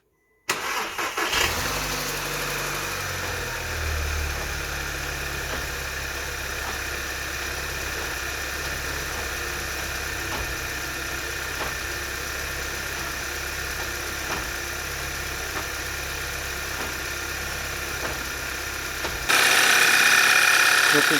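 A salvage Audi A3 Black Edition cranks briefly and catches, then settles into a steady, close engine idle that runs on with little change, the sound turning brighter and hissier near the end.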